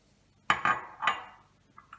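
Playdough ingredients go into a pot with a few metallic clinks and clanks from a utensil against the pot, close and separate, followed by two faint taps.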